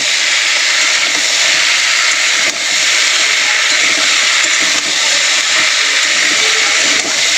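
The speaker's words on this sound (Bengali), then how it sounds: "মশলাটার সঙ্গে আলু বিনসটা একটু ভালো করে লাল লাল করে ভাজা ভাজা করে নেব" Potatoes and green beans fry in a pan with salt, turmeric and chili powder, giving off a loud, steady sizzle with no pauses.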